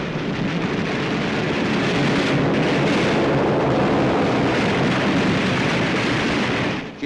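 Dense, continuous roar of massed anti-aircraft gunfire from a WWII aircraft carrier, USS Yorktown, firing at an attacking torpedo bomber; a steady, loud wall of rumbling bursts with no distinct individual shots, lasting throughout.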